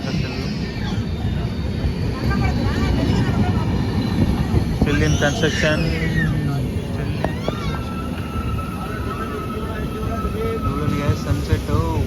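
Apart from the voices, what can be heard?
train passing at Kadiyam railway station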